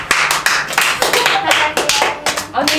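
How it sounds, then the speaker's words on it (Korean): Lively clapping from a small group in a Korean radio studio during a Brave Girls radio show, a burst of hand claps with sharp rhythmic peaks, a brief clear tone and soft chatter mixed in. "박수"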